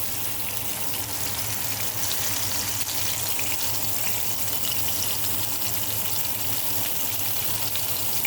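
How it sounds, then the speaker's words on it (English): Salmon skin searing in a hot pan while pressed down, a dense, even crackling sizzle that holds steady and close throughout, no talking. "let that skin on the salmon really sear"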